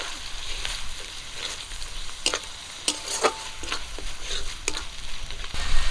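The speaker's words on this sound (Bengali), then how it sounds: "আদা রসুন আর জিরা বাটাটা দিয়ে আবারও কিছুক্ষণ একটু ভাজা করে নেব" Cumin, ginger and garlic paste frying with onion in a pan, a steady close sizzle broken by scraping stirs and light clicks of a spatula, no voices.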